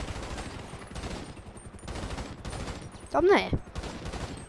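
Gunfire from GTA 5 as shots hit a wall: a short burst of rapid shots stands out, with quieter repeated bursts around it, under close talk.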